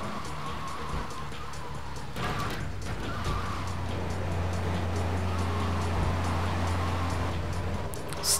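Stolen car in the GTA 3 video game driving with a steady low engine drone, a sudden crash-like burst near the start and rumbling road noise throughout, no talk.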